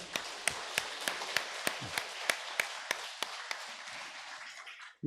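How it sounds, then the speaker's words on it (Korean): Rhythmic clapping from a church congregation welcoming visitors during a Sunday service, a dozen or so sharp, evenly spaced claps that gradually fade out. "우리 박수로 한번 환영하겠습니다."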